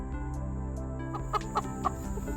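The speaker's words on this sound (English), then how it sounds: "all 5 out of 5 have turned out to be roosters" Young roosters, still chick-aged, give a few soft clucks near the end over a constant low hum, close and fairly quiet.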